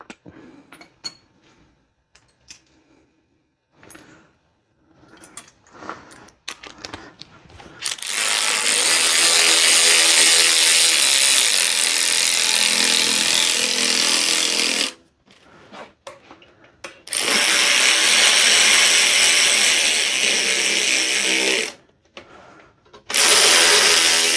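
A power tool drives 10mm bolts on a Ford Fiesta during a wet belt replacement, near the exhaust heat shield. After some quiet clanks, it whirs loudly and steadily in two long bursts and then a shorter one, close to the listener.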